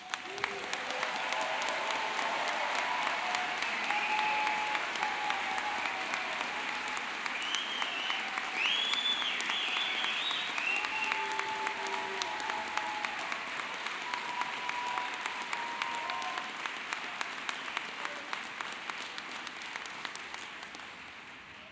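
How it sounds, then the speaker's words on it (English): Sustained applause from a large commencement audience honoring newly conferred education and human sciences graduates, steady dense clapping filling the hall for over twenty seconds with a faint murmur of crowd beneath. "I don't think that was quite enough applause for those graduates."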